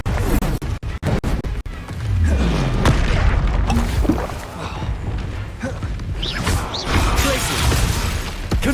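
Bombarda explosion spells in Hogwarts Legacy: after a few sharp cracks at the start, a loud, heavy blast booms and crashes, followed by rumbling debris and further smashing impacts, with occasional shouted spell names.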